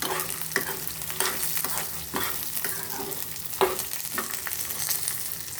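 Garlic and other chutney ingredients for chukkakura fry in a pan with a steady soft sizzle, broken by repeated scraping stirs, close and fairly quiet, no voices.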